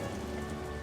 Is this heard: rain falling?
yes